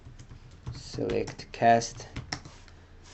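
Computer keyboard typing in short bursts of close key clicks, heard beneath someone speaking.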